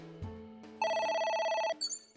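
A telephone ringtone in the video game AI: The Somnium Files sounds as one sustained electronic ringing burst, loud and steady for close to a second, with game sound effects just before and after it.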